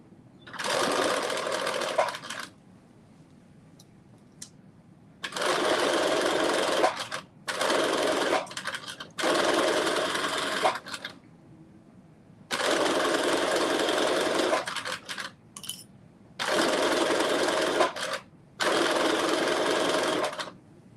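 Home sewing machine stitching fabric close to zipper teeth while making a cropped bodice, several loud bursts of fast mechanical whirring lasting a few seconds each, separated by quiet pauses.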